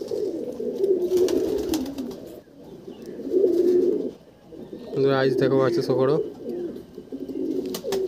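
A male Andhra pigeon coos in repeated low throaty bursts, close by, with other pigeons cooing around it while someone talks over parts of the sound.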